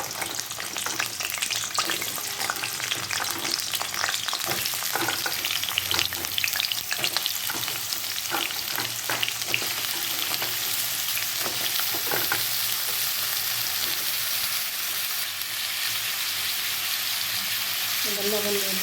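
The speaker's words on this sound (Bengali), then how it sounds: "তেল গরম হয়ে গেছে, এবার আলুটাকে দিয়ে দেবো।" Potatoes frying in plenty of hot oil give a close, steady, loud sizzle with crackling bursts that runs unbroken throughout.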